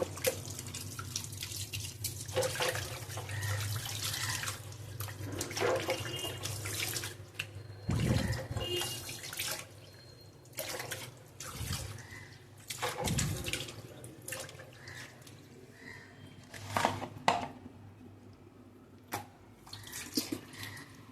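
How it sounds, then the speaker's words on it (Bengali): Fish, including bata, washed by hand under running tap water, steady splashing and dripping with handling noises and sloshing bursts, close and moderately quiet, with no speech. "সব মাছই একবার করে ধুয়ে রাখছি"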